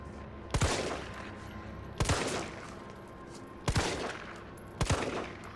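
Handgun fire in the Resident Evil 3 Remake video game, four loud sharp shots spaced about a second and a half apart, each with a short echoing tail, over quiet background ambience.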